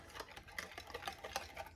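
Macaroni salad is stirred in a bowl, making quick, repeated wet squelching and scraping strokes in an uneven rhythm, close and fairly quiet.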